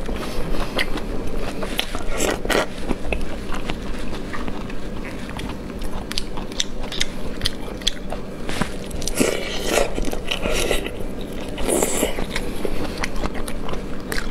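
Close, steady biting and chewing of large stuffed shrimp poured from a jar, with soft crunches and wet mouth sounds repeating over a constant background hiss and no talking.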